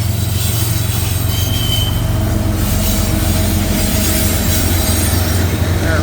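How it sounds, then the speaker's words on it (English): Freight train with double DPU locomotives passing in Hamilton on a cold windy morning, loud and close, a deep locomotive rumble under rolling wheel noise and high squealing, continuous throughout with no talk. "Double DPU coming through"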